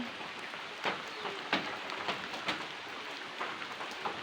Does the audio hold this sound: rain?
yes